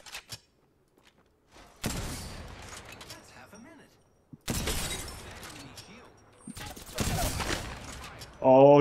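Gunfire in a shooter video game, with several loud bursts of rapid shots separated by quieter gaps and a voice speaking briefly at the end.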